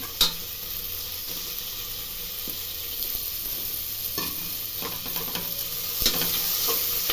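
Crushed garlic, green chili, ginger, clove and cinnamon fry in hot oil for a tomato bath, a steady close sizzle with occasional sharp stirring scrapes and knocks.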